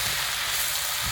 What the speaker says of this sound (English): you want it to be dry fried quite quickly